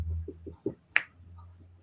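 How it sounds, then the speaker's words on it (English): A single sharp finger snap rings out near and clear, preceded by a few soft taps and a low steady hum in a quiet room. "You snap your fingers."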